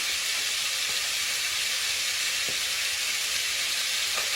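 Beef searing in a frying pan gives a steady, even sizzle that holds throughout, with a few faint clicks and no talking.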